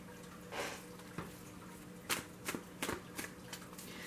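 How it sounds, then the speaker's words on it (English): A deck of tarot cards is shuffled quietly, close by, in several soft riffling bursts and slaps spread irregularly over a faint background hum. "I'm going to start shuffling the other deck."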